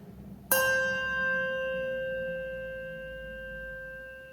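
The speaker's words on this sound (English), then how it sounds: "Here is what it sounds like when you ring a bell, and then when you dampen the sound, or make the sound stop, afterwards." A single handbell is struck once with a bright, clear ring whose tone sustains and slowly fades before being dampened, heard alone and close.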